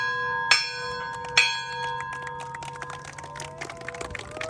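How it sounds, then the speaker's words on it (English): A ringing bell at a port facility dedication ceremony, two sharp struck strikes with long sustained tones that hang and slowly fade, followed by faint clattering. "I think that was also the dinner bell for over at the Seafarer Center."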